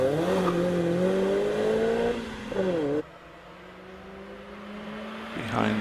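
A number 39 Mazda MX-5 2-litre race car climbs the Prescott hill climb course with a loud, droning engine note that rises and shifts through gear changes, then fades to a more distant hum.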